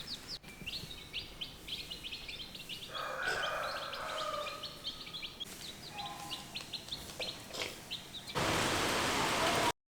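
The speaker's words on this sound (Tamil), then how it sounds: "வெளியில் ஜோன்னு மழை பெய்யுது பயங்கர காற்று" Heavy rain and strong wind outdoors, a steady broadband wash of downpour that grows loud and dense near the end, with small birds chirping repeatedly throughout.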